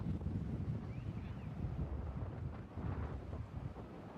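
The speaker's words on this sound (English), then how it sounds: "It's become a lot windy here." Gusty wind buffets the microphone with a constant low, rumbling roar that swells and dips slightly, at an outdoor cricket match.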